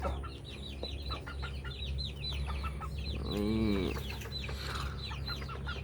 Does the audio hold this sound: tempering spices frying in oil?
no